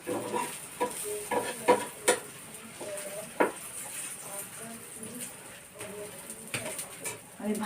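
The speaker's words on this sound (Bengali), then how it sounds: "আমি ভালো করে ভেজে নেব।" An egg and a paratha frying in a pan for an egg roll, a soft, continuous sizzle with scrapes and stirring clatters from a utensil, close by, under intermittent talk and a pigeon cooing in the background.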